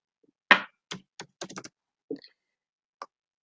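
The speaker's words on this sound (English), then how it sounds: "I'm going to type in text," Keystrokes on a computer keyboard while entering a line of text, a sparse run of separate clicks and taps with uneven gaps, close and fairly quiet with no talking.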